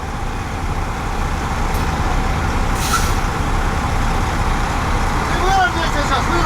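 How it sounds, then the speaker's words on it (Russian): A truck's wheels spin in loose sand on a remote Yakutian track, a steady, loud engine drone and churning roar running throughout, with a brief hiss near the middle and voices talking nearby. "Этот буксует. Везде песок."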